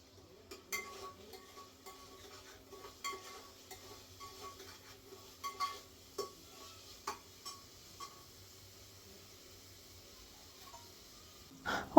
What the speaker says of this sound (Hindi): यहाँ पर मैं काट रही थी ना प्याज